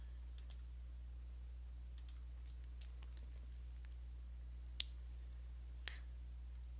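A handful of sharp, faint mouse clicks at a computer running Acumatica software, spaced irregularly over a quiet, steady low hum with no talking.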